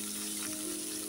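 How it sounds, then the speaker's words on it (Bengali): Prawns fry in hot oil in a pan, giving a short, continuous close sizzle at even loudness. "চিংড়ি মাছগুলি দিয়ে দিলাম"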